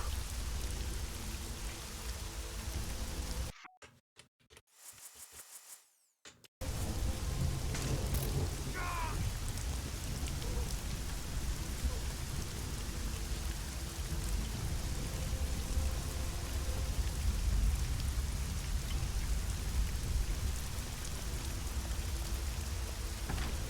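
Steady, heavy rain pours in Hitman: Blood Money, dense and continuous with thunder-like low rumble, broken by a brief near-silent gap before the downpour resumes loudly and evenly.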